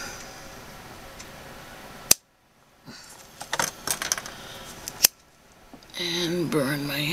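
Scissors snipping macramé cord, with a couple of sharp close clicks and small rustling handling noises between them, ending in a brief burst of other activity.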